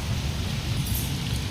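Heavy rain falls on a village in a constant, even wash of noise with a low rumbling undertone, moderately loud and uninterrupted, no one speaking.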